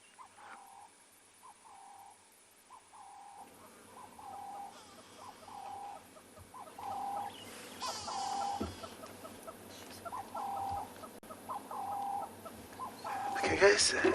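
Repeated short bird calls in a steady rhythm ring out through open bush at sunrise on Tswalu reserve, with a low background rumble and some faint voices late on.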